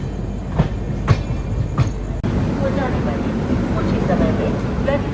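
Train coaches roll into Ratlam Junction with a few sharp clacks, then a steady rumbling rattle of wheels on track, while someone talks over the noise.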